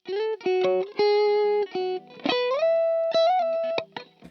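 Electric guitar played alone through a Randall RM100 amp with a low-gain module, a clean, lightly driven tone: a short melodic phrase of separate notes and a few slides, close and clear.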